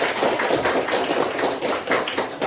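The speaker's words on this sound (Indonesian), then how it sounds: "Tepuk tangan semuanya" Students in a junior high school Islamic jurisprudence class clap together, giving a short burst of brisk, uneven applause that rises and falls in small waves, with no talk over it.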